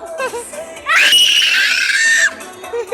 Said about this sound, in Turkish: Çığlık atıyor.